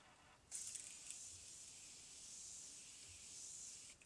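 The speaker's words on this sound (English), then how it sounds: "So I'm gonna take the Morphe setting mist and just kind of set this all into place." Morphe setting mist sprayed onto a made-up face in a steady hissing burst of about three and a half seconds, close and fairly quiet, with no talking.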